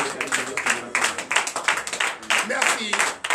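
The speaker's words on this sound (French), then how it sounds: "Donnez l'acclamation à Jésus." A congregation claps in acclamation during a Thursday morning prayer service in Comè, Benin. The clapping is dense and rhythmic, with broad bursts repeating for several seconds under voices.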